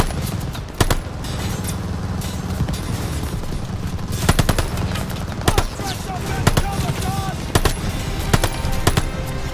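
In a WWII video game battle, machine guns fire in rapid bursts of sharp cracks alongside scattered gunshots over rumbling combat noise, with soldiers shouting now and then.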